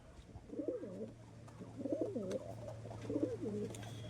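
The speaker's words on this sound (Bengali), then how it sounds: "শক করুন বন্ধুরা, একদম এক পেয়ার পায়রা," A pair of pigeons cooing close by, with three rolling coo phrases in a row over a low steady background hum.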